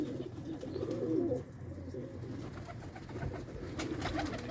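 Pigeons coo steadily in a loft, a low murmuring burble that swells loudest in the first second and a half and then carries on at a steady level from several birds nearby.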